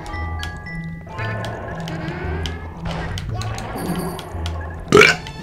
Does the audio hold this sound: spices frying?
no